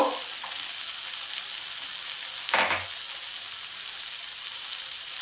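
Ground coriander, cumin and Kashmiri chilli powder frying in a pan for a winter-vegetable fish curry, a steady bright sizzle with a sudden louder hissing burst as a little water is poured in.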